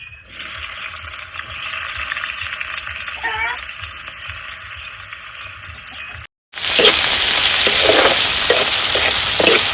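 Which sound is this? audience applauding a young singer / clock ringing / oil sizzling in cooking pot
oil sizzling in cooking pot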